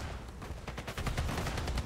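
Gunfire in the video game Sniper Elite 5 comes as a rapid series of muffled, booming shots in quick succession over a rumbling background, dense and continuous for about two seconds.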